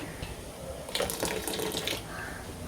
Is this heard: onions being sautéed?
no